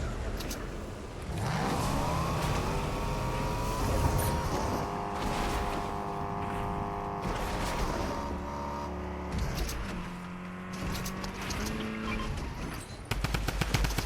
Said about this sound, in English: Wait, why is it shooting at my car?